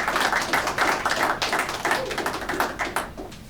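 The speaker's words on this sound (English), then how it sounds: "Give them a round of applause, a big one" Applause at a high school manufacturing partnership event, a crowd clapping steadily at moderate loudness with dense overlapping claps and no voices.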